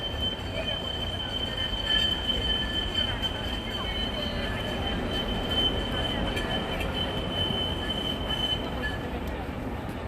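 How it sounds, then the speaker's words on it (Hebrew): A tram arrives near the Parliament building in Budapest, with a steady rolling rumble, metallic rail hum and a faint wheel squeal, continuous and moderately close beneath street ambience. "בדיוק מגיעה חשמלית."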